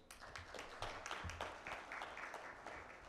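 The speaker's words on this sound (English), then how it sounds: "let's welcome him with a huge round of applause." Audience applause welcoming a speaker at a Goods and Services Tax session in Ahmedabad, moderate clapping from a room of people, fairly faint and steady.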